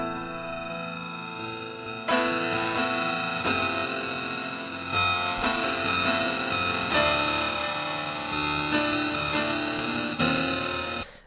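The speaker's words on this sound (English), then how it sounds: "I applied delay and then reversed it" Harsh, dense processed tones from a reversed delay effect with spectral un-rotation, metallic and smeared, shifting in blocks every second or two, loud and continuous with no voices.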